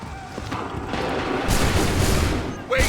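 A volley of musket fire in Assassin's Creed 3 sounds as a loud, dense crackle of overlapping gunshots, building into a sustained roar and ending with another sharp burst, with shouted commands mixed in.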